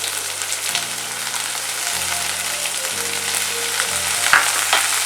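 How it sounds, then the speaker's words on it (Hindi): Onion and green chilli frying over a medium flame, a steady close sizzle throughout with a low electrical hum that starts and stops underneath. "फ्राई करेंगे मीडियम फ्लेम पे। हल्का फ्राई करना है हमको।"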